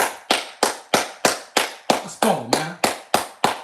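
A fan claps hands to celebrate a Minnesota Vikings win over the New Orleans Saints. Twelve sharp, evenly spaced claps come close and loud, with someone briefly speaking over the middle of them.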